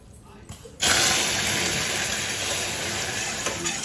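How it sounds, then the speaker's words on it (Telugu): A splash of water hits hot caramelized sugar for caramel pudding, starting suddenly with a loud bubbling hiss and gush that stays strong and continuous, close up. "So will add just a splash of water."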